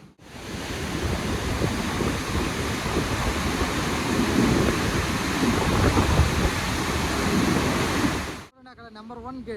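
Water rushes out of the ten open gates of the Srisailam dam in a dense, continuous roar that fills the air for several seconds, then cuts away to a voice speaking.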